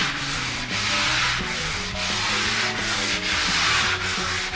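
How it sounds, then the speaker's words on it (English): Wet sanding of primed body paint on a Camaro Z28, a steady loud rasping rub that repeats in even back-and-forth strokes about every 0.6 seconds, with no voices. "I don't know if he's wanting me to wet sand and buff this one or not."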